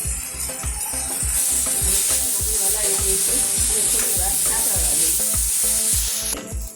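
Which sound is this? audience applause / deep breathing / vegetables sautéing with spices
vegetables sautéing with spices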